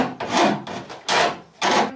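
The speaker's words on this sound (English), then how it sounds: "And now we get a file" A hand file rasps along the cut edges of a hole in a van roof, in three or four close back-and-forth strokes with short pauses between, with no talking.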